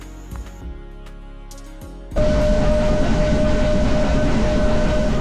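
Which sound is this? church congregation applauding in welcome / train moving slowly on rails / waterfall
train moving slowly on rails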